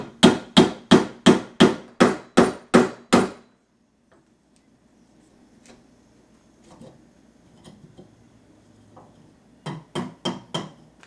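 A mallet drives a chisel while chopping a mortise by hand: eight sharp, evenly spaced close knocks, a quiet pause of small scraping and handling sounds, then a few more strikes.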